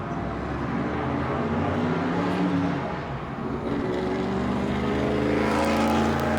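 A race car at Daytona International Speedway roars steadily as it pulls away, a loud sustained engine drone that holds through the whole stretch and swells slightly toward the end.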